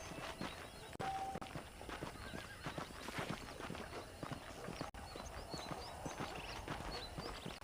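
Repeated hoofbeats clatter steadily, with horses neighing and whinnying throughout, all fairly close, in the video game Red Dead Redemption.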